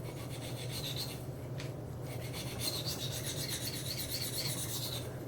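A steel butter knife edge is rubbed freehand across a sharpening stone in long, steady rasping strokes, close and continuous, with a brief pause partway through and no talking.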